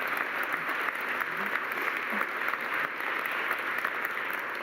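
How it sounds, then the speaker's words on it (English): A large audience in the Capitol chamber keeps up continuous applause during a speech, broad, even clapping from many hands at a constant moderate level with no distinct voices. "damn, applause break."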